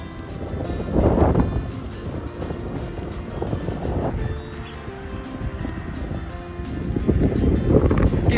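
Wind gusting during an outdoor bike ride on a road near the Lake Michigan shore, a steady low rumble of buffeting air across the microphone that swells louder near the start and again at the end, with no talking.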